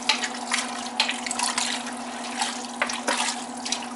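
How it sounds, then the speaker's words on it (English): Water runs into a pot for beef stew in a steady, fairly close stream, its splashing irregular with small gurgles and spurts throughout. "I don't want to put too much water in there"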